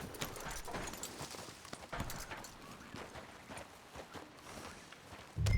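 Horse hooves clip-clopping in Red Dead Redemption 2, a soft, steady stream of footfalls at a walking pace, faint and a little distant, alone without talk until a louder bump at the very end.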